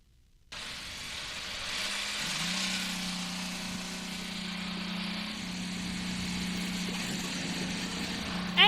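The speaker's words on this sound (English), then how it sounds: "Engines are fired here for the Grand Prix of Alabama." IndyCar race car engines fire up on the starting grid at the 2023 Grand Prix of Alabama: a loud engine drone starts abruptly and holds steady, with a broad wash of crowd or track noise and a brief sharp sound at the very end.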